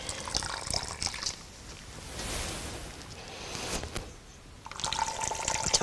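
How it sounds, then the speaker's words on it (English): Water pours and trickles from a hot cloth twisted to wring it out, a splashing, dribbling stream in two bursts with a quieter wet patch between, close and moderately loud, with no speech. "by twisting it, you can get all the water out"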